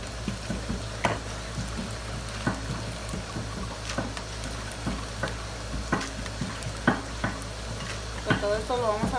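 Tomatoes fry in a pan after chiles are taken out, giving a continuous sizzle under scattered scrapes and clatter of a utensil against the pan.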